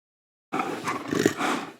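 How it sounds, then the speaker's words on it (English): A leopard makes a short, rasping roar-like call, fairly faint, with a few rough bursts after a moment of silence and no voices. "Leopard."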